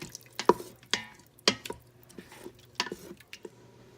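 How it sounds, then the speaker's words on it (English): Beef broth is stirred in an Instant Pot, with close, scattered liquid splashes, scrapes and clinks of a utensil against the pot coming in short, uneven bursts. "Stir it around."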